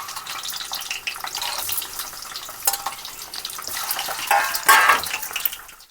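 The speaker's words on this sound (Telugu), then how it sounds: "ఇదిగోండి పసుపు రాసిన గుడ్లని ఇలాగ ఆయిల్లో వేసుకోవాలి. లైట్ ఫ్రై చేద్దామండి" Turmeric-coated boiled eggs lightly frying in oil for an egg garlic-chilli curry, a continuous close sizzle with crackling bursts that swell louder near the end, with no talking.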